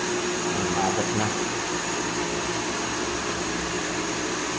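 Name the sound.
water refilling station vertical pump running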